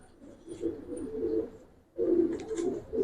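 A Khaki Giribaz pigeon coos in two low, rolling bursts, close and moderately loud, with a short quiet gap between them.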